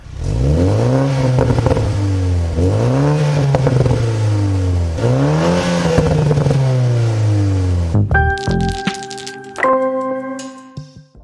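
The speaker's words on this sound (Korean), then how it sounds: "스포츠 플러스를 놓고 악셀을 조금만 쳐주게 되면은 팝콘까지 들으실 수가 있는" BMW Z4 engine in Sport Plus mode revving three times in rising, falling sweeps, loud and close, then the throttle drops and sharp exhaust pops and crackles follow, bursting irregularly as the engine settles.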